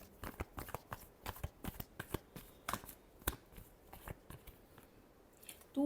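Tarot cards being shuffled by hand in a Libra reading, a close, quiet run of riffling flicks and soft slaps that comes in irregular bursts, with no talking.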